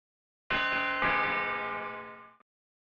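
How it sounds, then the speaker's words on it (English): Doorbell chimes from the JumpStart 3rd Grade video game ring out alone, a bright bell-like tone that starts, restrikes about half a second later, then rings on and fades over about two seconds. "Ring the doorbell to start the chimes."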